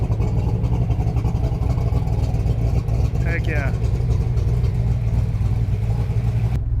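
A Ford Ranger with a 331 engine and a newly fitted exhaust drones loudly and steadily as it drives, and a voice briefly speaks over the engine.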